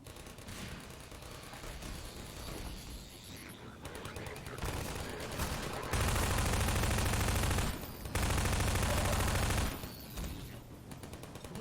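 Rapid automatic turret gunfire from Half-Life 2, a dense sustained burst of fire that dominates the mix for several seconds, pauses briefly, then resumes just as loud before cutting off, with game sounds around it.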